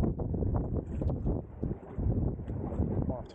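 Gusty wind buffets the microphone on a concrete-block shoreline at Napier during fishing, a steady broadband rush with swells and dips throughout, loud and close with no other distinct sounds.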